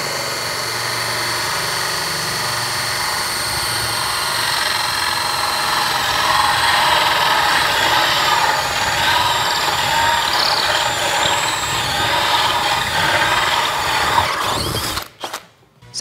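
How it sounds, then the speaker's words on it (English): A Bosch GSR 18V Flexiclick cordless drill driver with a 12 Ah battery whirs continuously at close range, its motor pitch shifting slightly as it bores holes, then winds down abruptly at the end. "now we drill holes with reckless abandon."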